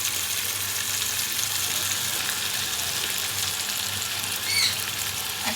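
Garlic paste sizzles in a pan with browned fried onions, a steady bright crackling hiss that runs throughout, with a brief stir near the end and no talking.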